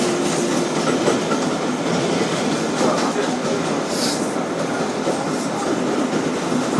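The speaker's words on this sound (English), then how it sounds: "This is a Flushing Main Street bound 7 local train." A New York subway 7 local train, a 2012 Kawasaki R-188 bound for Flushing Main Street, runs on the rails with a loud, steady rumble and rattle, a constant roar from inside the car.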